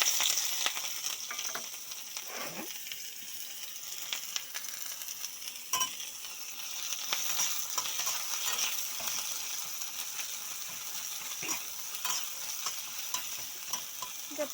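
Onion, garlic and chili sizzle and fry in a pan for chutney, with steady crackling and occasional stirring scrapes throughout, close and fairly quiet, no voices.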